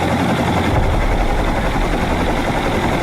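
A helicopter engine in a video game gives off a loud, steady, low rumbling drone that stays constant the whole time, with no speech over it.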